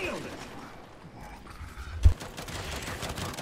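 A Gears of War 5 gun fires in a sudden loud burst followed by a rattling volley of shots that fades back into a noisy battle bed; no speech over it.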